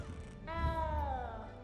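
A small cat meows in the Hogwarts Legacy video game, one drawn-out, rising-then-falling meow following a brief lower sound, close and clear over a low background rumble.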